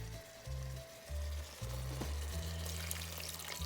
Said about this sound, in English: Here's your vegetable broth. Pour that in.